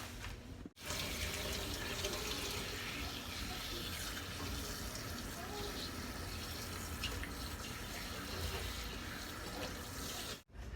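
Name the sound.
rinsing protein treatment out of hair with water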